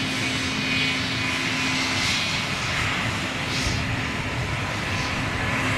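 A Swiss Airbus A220 with LEAP-1A engines passes by, producing a steady, broad engine roar with a faint whine, heard at moderate distance without talk.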